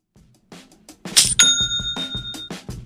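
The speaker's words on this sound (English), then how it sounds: "It's the notification of a new sale on Shopify." Shopify's new-sale notification chime rings out as a bright bell-like ding with sustained ringing tones, sounding over a voice talking nearby.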